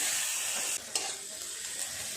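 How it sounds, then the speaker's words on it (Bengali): A steady hiss of onions frying fills the clip, with a quick scrape or two of stirring in the pan, close and fairly quiet. "পেঁয়াজটা ভালো করে ভেজে নেব।"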